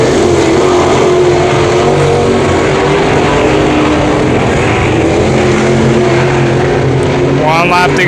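Race cars roar around the oval at Brownstown Speedway during a heat race, engines droning loud and steady close by, with a public-address announcer talking over the din.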